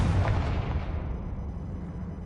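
The Confringo fire spell explodes in Hogwarts Legacy as a deep, rumbling blast that opens loud and fades slowly over about two seconds, with no voices over it.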